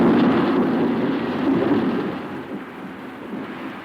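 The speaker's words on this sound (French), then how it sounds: "cet orage qui se déchaîne juste à l'instant" A deep rolling rumble of thunder with rainy hiss fills the air, loud at first and slowly fading.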